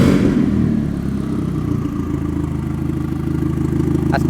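A Mk3 Volkswagen Golf 20v turbo engine with no exhaust fitted idles loudly and steadily with a rough, throaty drone and mechanical clatter, running continuously with no voices.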